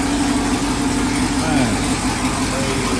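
A 2016 Camaro SS V8 idles with Corsa long-tube headers fitted, giving a loud, steady, deep rumble that holds at a constant level throughout, with a voice faintly present over it.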